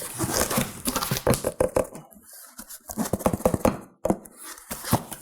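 Project 62 Avesta stoneware bowls being unpacked and handled, giving a busy run of close clinks, knocks and crinkling packaging that pauses briefly midway.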